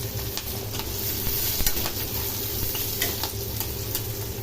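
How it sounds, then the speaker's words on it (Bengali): Chicken 65 pieces fry in hot oil in a home kitchen, giving a steady, dense sizzle with occasional crackles and stirring scrapes, close and continuous throughout with no voices. "এইভাবে আমি চিকেনগুলো সব ভেজে নেব।"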